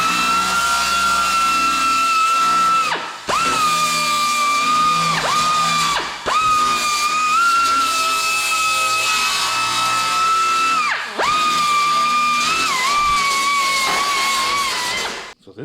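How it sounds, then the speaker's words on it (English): A power tool deburring the inside edge of a replacement car wheel arch panel, a loud high-pitched whine in long steady runs broken by brief pauses and restarts, close and without talk. "you're also going to want to deburr this inside edge"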